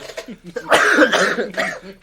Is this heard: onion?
no